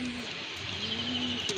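Pigeons at a pigeon farm, including Peshawari pigeons, coo softly nearby in low, steady murmurs, with a brief higher chirp near the end and no talk over it.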